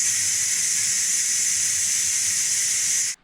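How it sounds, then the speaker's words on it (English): A Ninja Foodi pressure cooker vents steam in a steady, loud, high hiss lasting about three seconds before cutting off abruptly. "had a little bit of a steam come at the top whenever I turn it to vent"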